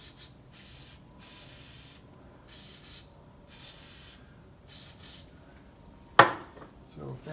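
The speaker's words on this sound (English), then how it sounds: "I'm just going to degrease the holes a little bit" Degreaser sprayed in repeated short hisses into the bar stud holes of a Stihl MS661 chainsaw under repair, five or six bursts with pauses between, then a sharp metallic clatter near the end.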